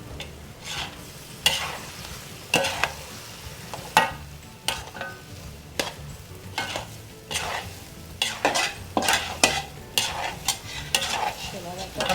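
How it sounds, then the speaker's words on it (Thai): Curry chicken filling for spring rolls being stir-fried in a pan, a steady sizzle broken by repeated loud scrapes and clacks of the spatula against the pan, close and busy with no voices. "นี้เราจะผัดไปเรื่อยๆ จนแบบ มันงวดนะครับงวดเกือบจะแห้ง"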